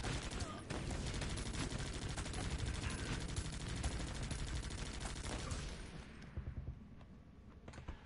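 Dense, sustained gunfire from the video game Guns Up, with rapid overlapping shots in a loud barrage that thins into scattered bursts near the end.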